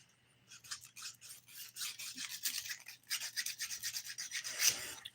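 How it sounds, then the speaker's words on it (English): A nail file rasps back and forth over dip powder nails in quick, close, rhythmic strokes, soft at first then building into a steady scratchy scrubbing with no talk. "Filing is one of those things that can be super rewarding"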